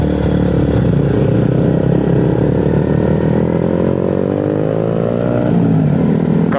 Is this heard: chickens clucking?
no